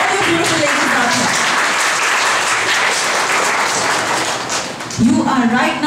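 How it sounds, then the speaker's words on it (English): Audience applause at an International Women's Day event, a dense steady wash of many hands clapping that fills most of the stretch, with a voice speaking over it near the end. "Can we hear an applause for all you beautiful ladies out there?"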